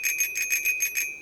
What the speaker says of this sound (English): I can ring the bell